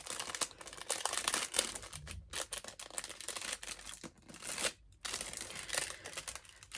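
Plastic packaging wrapped around a wooden keychain crinkles and rustles steadily as it is handled and unwrapped up close, with brief pauses and no talking.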